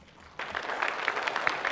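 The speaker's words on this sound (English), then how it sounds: "I hear a round of applause coming." Applause from a crowd at an outdoor Christmas tuba concert, starting abruptly and continuing as a moderate, moderately distant patter of clapping.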